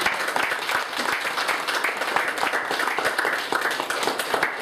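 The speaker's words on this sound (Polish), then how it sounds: "proszę bardzo, brawa." An audience at a film promotion in a library gives steady, moderately loud applause, many hands clapping in a quick, even patter that carries on throughout.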